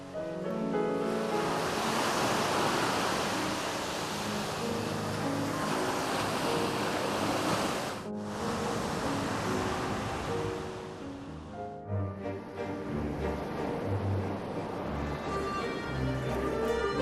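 Surf washes steadily onto Kamaya beach in northern Japan as a fresh sea breeze blows, a continuous broad rush of waves with wind buffeting the microphone and a brief dip midway, no voices.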